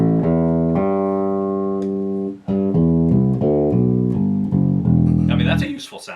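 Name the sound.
Jazz Bass copy electric bass with upgraded electronics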